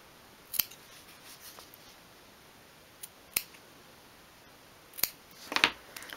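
Small scissors snip through craft fabric or foam for a 1/12 scale dollhouse sofa, a few sharp isolated cuts spaced seconds apart in a quiet room, the last ones quicker.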